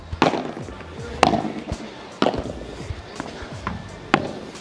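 A ball strikes a 2023 Puma Solar Attack padel racket in sharp, solid pops about once a second, five hits in all, with faint background voices.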